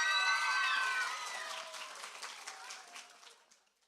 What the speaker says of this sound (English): let's have a round of applause to Mr.